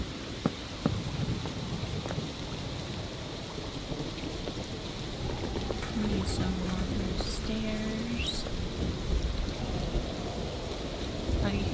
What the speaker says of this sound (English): The rain hitting the like copper, the little like tin sound, that's really cool.